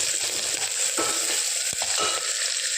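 Mustard seeds and onion frying in oil for paruppu rasam, a loud steady hiss of sizzling with a few scraping stir strokes and small pops, close up, with no talk.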